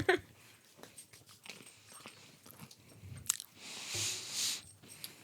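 A dog crunches and chews food up close, with irregular bites and crunches that rise and fall quietly.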